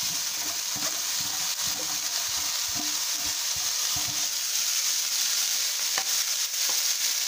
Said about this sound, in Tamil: மூணு பெரிய வெங்காயம் நைஸாக கட் பண்ணி வச்சுருந்தேன், அதையும் போட்டு நல்லா வதக்கிடுவோம்